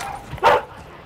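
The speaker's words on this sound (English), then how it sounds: "Shut that dog up." A dog in a video game gives a single sharp bark, loud and close, standing out against a low background murmur.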